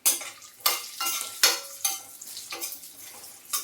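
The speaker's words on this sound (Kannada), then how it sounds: "ಇದನ್ನು ಸ್ವಲ್ಪ ತುಪ್ಪದಲ್ಲಿ ಫ್ರೈ ಮಾಡೋದ್ರಿಂದ ತುಂಬ ಚೆನ್ನಾಗಿ ಟೇಸ್ಟ್ ಕೊಡುತ್ತೆ ನಮಗೆ." Cashews fry in ghee in a pan, giving a steady sizzle that is broken up by repeated scraping stirs of a spoon. The bursts are close and fairly loud, with no talking.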